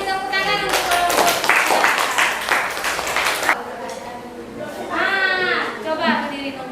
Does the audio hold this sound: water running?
no